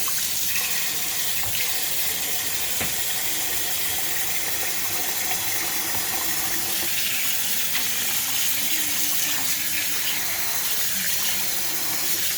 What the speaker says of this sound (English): Run some cold water to cool it down because it's very, very hot.